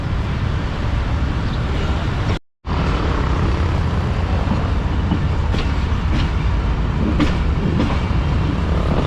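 Allama Iqbal Express moving slowly over track under repair near Kalakot, a steady broadband rumble of wheels and carriage noise throughout, with a sharp brief dropout early and faint clicks later.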